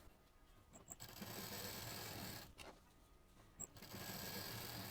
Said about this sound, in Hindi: अब इसको हम यहाँ पर साइड से सिल देंगे